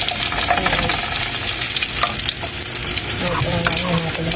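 Sauce fries in a hot pan with a loud, continuous sizzle and crackle close by, the steady hiss broken by occasional stirring scrapes, with no talk.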